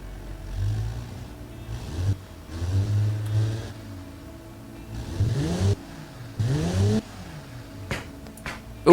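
A simulated six-cylinder car in the Automation car design game revs up repeatedly in several rising bursts, each falling back toward idle, with sharp exhaust pops and crackles near the end, muffled but close.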